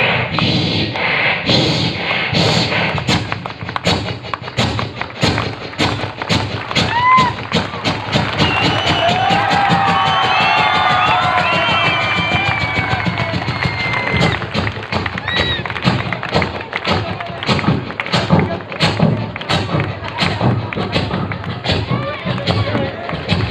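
A voice imitates a farmer's diesel engine starting and chugging while an audience claps along in rhythm, steady loud thumping beats throughout with crowd cheering in the middle.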